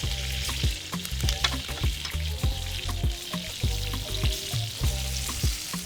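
Chilies, scallions and corn fry in leftover fat in a hot pan, making a lively close sizzle with repeated rhythmic clanks and scrapes as the pan is tossed and stirred.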